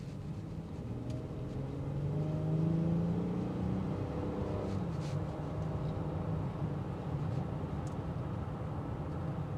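A 2025 Honda Odyssey Sport L minivan with 280 horsepower accelerates, its engine rising into a smooth, muffled rumble heard from inside the cabin, swelling and then settling into a steady road drone.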